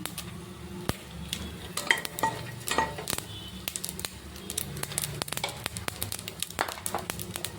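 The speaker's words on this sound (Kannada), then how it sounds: "ಇವಾಗ ಸಾಸಿವೆ ಹಾಕ್ತೀನಿ" Mustard seeds crackle and pop in hot ghee mixed with coconut oil, a dense close sizzle peppered with rapid sharp spits and a few faint utensil clinks.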